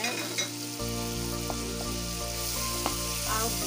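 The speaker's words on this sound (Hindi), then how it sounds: "अब इसके अंदर मैं पनीर डालने लगी हूँ। पनीर को अच्छी तरह मैंने इसको भूनना है।" Paneer frying in oil and masala in an omelette-style paneer dish gives a loud, steady sizzle with a continuous hiss, a few brief clicks of stirring, and no talking.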